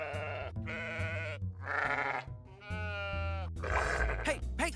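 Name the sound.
sheep bleating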